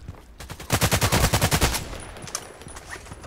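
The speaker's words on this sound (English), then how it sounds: "those 10 shots are definitely super fast" A rapid burst of about ten gunshots in the online shooter Contract Wars, fired in quick even succession and loud, followed by a few scattered fainter shots and clicks.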